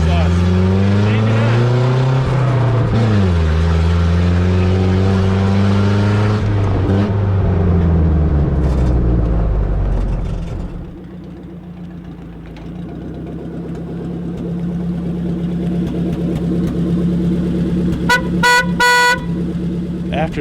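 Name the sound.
Citroën DS 19 car driving, engine and horn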